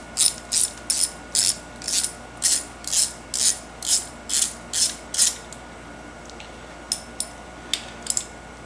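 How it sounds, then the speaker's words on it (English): A hand ratchet clicks in quick rhythmic bursts, about a dozen even strokes, then a few slower separated ones, while tightening bolts on a Yamaha-BSA 650 scrambler build in a workshop, close and clear with no talking. "I've finished tightening these up"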